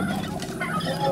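Turkeys gobbling in the open-world shooter Far Cry 5, a short dense burst of rapid gobbles filling the whole second, close and fairly loud.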